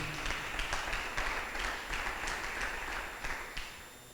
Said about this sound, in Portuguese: dê um aplauso ao Senhor Jesus no seu lugar